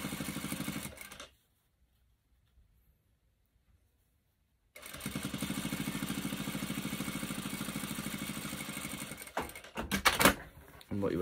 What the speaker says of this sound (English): then top stitch along here to conceal all the edges